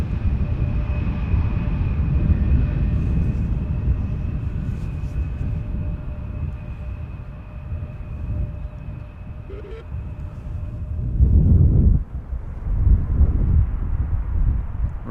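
Aircraft at Amsterdam Schiphol Airport, a distant low jet rumble and wind-like roar swelling and fading, with a louder surge near the end, outdoors and without talk.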